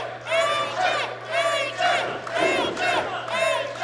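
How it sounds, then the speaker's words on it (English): A wrestling show crowd at the Knoxville Convention Center roars and cheers in rising waves, a dense sustained shout filling the hall under a steady hum. "this crowd's coming alive for him at the Knoxville Convention Center"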